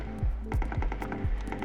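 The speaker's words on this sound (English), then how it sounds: "beefy gunfire being fired next to me." Distant video-game gunfire, a quick string of muted cracks in an uneven burst of about five shots, faint and somewhat far off.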